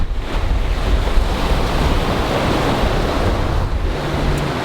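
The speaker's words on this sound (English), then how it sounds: "The waves are coming up strong as well, and so is the wind." Strong wind of about 30 knots roars steadily over crashing sea waves while sailing, a loud continuous wash of surf and gusts with no voices.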